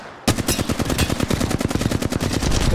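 Rapid automatic gunfire in Apex Legends, a dense, loud burst of closely spaced shots that keeps up without pause for a couple of seconds after a brief quiet lead-in.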